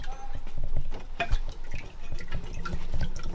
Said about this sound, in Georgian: წყალი არ მაქვს, წვეთებით მოდის. აგერ. აი მოუშვებ და ნახავთ.